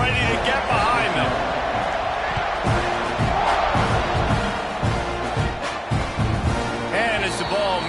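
A big college football stadium crowd at Oklahoma versus Texas A&M roars steadily before the kickoff, a loud, dense wash of cheering with a commentator talking over it.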